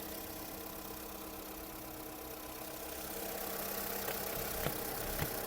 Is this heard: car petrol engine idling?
yes